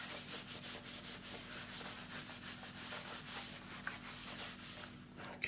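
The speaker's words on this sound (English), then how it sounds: "I'll add a little bit of rubbing alcohol on there, and I'm making sure that this surface is ready" A rag rubs rubbing alcohol across the surface of an FTX DR8 RC car chassis, a steady close scrubbing and wiping with a repeated rhythmic swish, fairly quiet and continuous with no talk.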